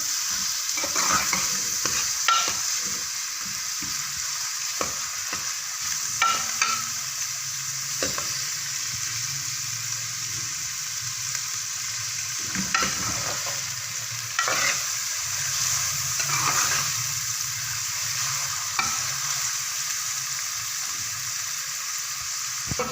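Continuous sizzling from onions frying in a hot pan, with occasional stirring scrapes and clinks, close and steady, no talking.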